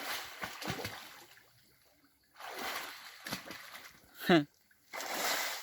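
Pet playing in water, with intermittent splashes and sloshing bursts separated by quiet gaps, one sharp louder splash near the end, moderately close.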